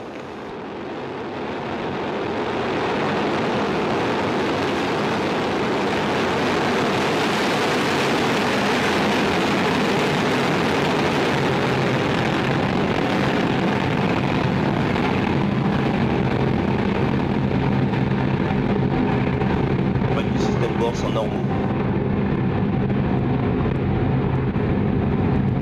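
Soyuz rocket lifting off from Kourou in French Guiana, a distant broadband roar that swells over the first few seconds, then holds a heavy, steady rumble alone for the rest.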